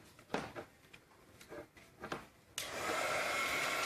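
Heat gun switching on to melt embossing powder, a few quiet handling taps and rustles first, then a sudden steady hissing blower roar that continues to the end, close and even.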